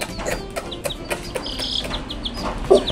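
Chickens clucking and chirping nearby, a steady run of short repeated calls over a low background murmur, with a louder squawk near the end.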